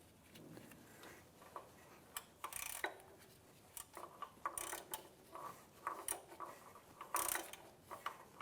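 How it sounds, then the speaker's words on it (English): A hand ratchet clicks in quick irregular runs while snugging serpentine belt tensioner bolts on a 2007-2013 Acura MDX, faint light metallic ticks in short bursts with pauses between. "now we're going to tighten these down"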